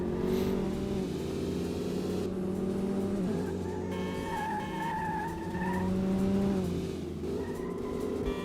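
A car in the Metropolis Street Racer game skids through a panic handbrake slide, tires squealing over a revving engine, with sweeping pitch bends as the slide unfolds.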